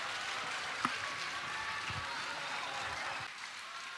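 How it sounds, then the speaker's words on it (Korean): Church audience applauding after a stage performance; steady, fairly faint clapping from a crowd, continuous and even across the moment, heard from some distance. "다시 한번 큰 박수 부탁드립니다"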